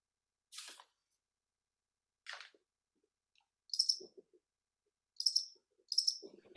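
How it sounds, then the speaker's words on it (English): Cricket chirping sound effect played during an online meeting, several short high-pitched trills spaced a second or so apart, with brief quiet voice fragments between them. "I love my crickets"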